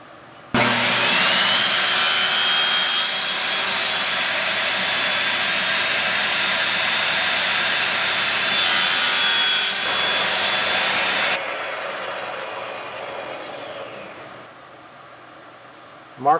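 A power tool trims a segmented wood pen blank, a loud steady whining cut running about eleven seconds without pause before it cuts off and winds down, leaving a quieter fading tail.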